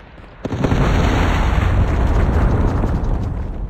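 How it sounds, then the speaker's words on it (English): A predator missile strike in Call of Duty Mobile multiplayer lands with a sudden loud boom, then a dense, roaring rumble of blast debris that stays heavy and close for several seconds. "Predator missile inbound."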